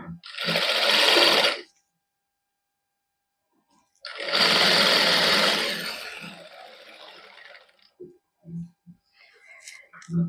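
Sewing machine stitching a neckline design with multicolour thread in a Punjabi boutique, two loud bursts of running separated by a pause, followed by a few short stop-start stitches.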